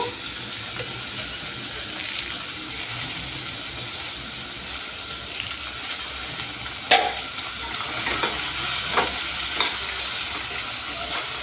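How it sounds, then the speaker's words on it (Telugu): Curry leaves and long-sliced onions browning in hot oil make a continuous, close sizzle, with scraping stirs and a few louder clatters of the spoon against the pan in the second half. "ఇవి బ్రౌన్ కలర్ వచ్చినంత వరకు వేయించుకోవాలి"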